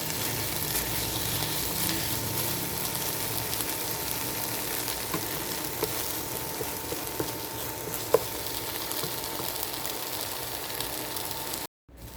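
Tomatoes sautéing in a pan with a little water and salt for a bangus dish, a continuous even sizzle that steadily hisses and then cuts out abruptly near the end.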